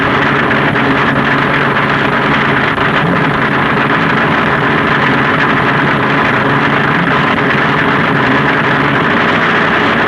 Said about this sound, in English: Leaving first on the handicap start will be the gas-burning roadster of Ron Ellis from Michigan.